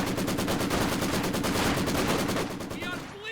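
A Maxim machine gun rattles off a long rapid burst in Company of Heroes 2, evenly spaced loud shots hammering in quick rhythm before tapering off.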